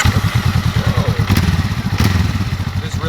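A Honda Rebel 500 or Yamaha Bolt 950 cruiser motorcycle idles close by with a loud, lumpy, rapid thumping exhaust pulse and some mechanical clatter, steady throughout the short stretch.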